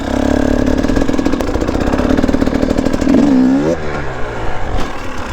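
A dirt bike engine revs loudly and steadily up close, its pitch rising and falling as the throttle is worked during first-time wheelie practice, with a sharp rev swell and drop near the end.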